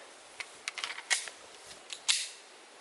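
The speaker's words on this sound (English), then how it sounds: "Up first for the level 4 plate is 22 long rifle on my Kel-Tec" Several sharp .22 LR shots from a Kel-Tec P17 pistol striking a level 4 armor plate outdoors, a string of quick cracks followed by two louder, longer reports, fairly faint and with no talk.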